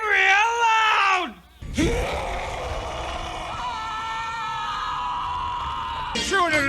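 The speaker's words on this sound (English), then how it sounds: "whenever anyone says the secret word, scream real loud!" A crowd of people screams loudly together, with one long, wavering high-pitched yell breaking off, then a sustained group shriek that carries on to the end.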